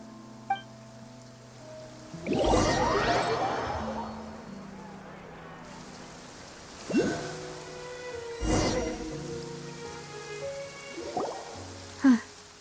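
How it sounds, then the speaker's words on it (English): Steady rain patters throughout a rainy outdoor scene in the video game Genshin Impact, with soft music tones and a few louder bursts and thuds rising above the wash. "It's been raining non-stop for a few days now."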